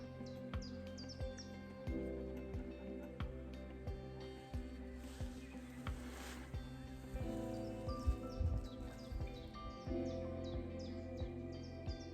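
A bird sings in short, repeated chirps at a distance, scattered across a quiet outdoor scene with soft rustling and low background hum.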